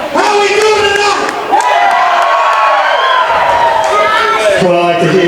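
A crowd at a Central Empire Wrestling event in Iowa cheers loudly, with shouts and whoops. The noise is continuous and close, and someone speaks over it.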